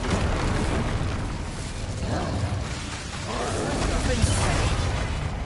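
Fire spell bursts in Hogwarts Legacy, dense roaring blasts and crackling booms running continuously under loud game noise, with a voice shouting over parts of it.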